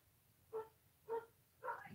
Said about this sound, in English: Sounds like dogs are kicking off out the back.